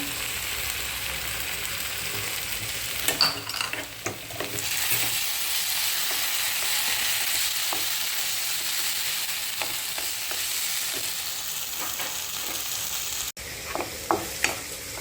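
Tomato puree and garlic sizzle and fry in a pan while a spoon stirs through it in steady, repeated scraping strokes, close and continuous for the whole stretch.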